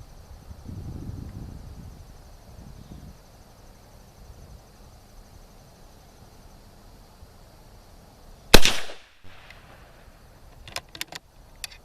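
A 7.65x53 Mauser rifle firing a Lyman 311413 cast bullet lets off one sharp, loud shot near the middle, followed by a short decay. Before and after it there is only quiet outdoor background with a few faint clicks.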